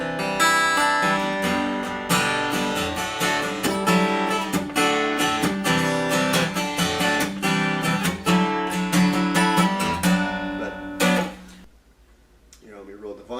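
A Taylor acoustic guitar is strummed unamplified, with its Roland AC60 amp volume turned off, in rhythmic chords and quick muted strokes, close and lively. It ends with a ringing chord that fades, with a brief voice at the end.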